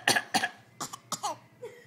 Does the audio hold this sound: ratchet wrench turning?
no